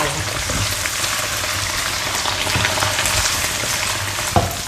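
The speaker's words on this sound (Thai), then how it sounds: "ทอดให้เหลืองตามชอบนะ" Sun-dried fish fries in hot oil with a dense, steady sizzle and crackle, loud and close throughout, with a small clatter near the end and no talk.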